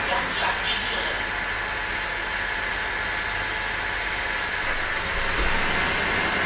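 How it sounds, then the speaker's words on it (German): A MACH V1 Ultra all-in-one cleaner hisses steadily as it releases steam in steam mode, a close, continuous broadband rush lasting the whole stretch with no pauses. "Und jetzt sind wir bereit zum Dampfen."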